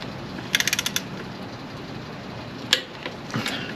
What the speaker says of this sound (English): Just peace of mind knowing that they're correctly torqued down.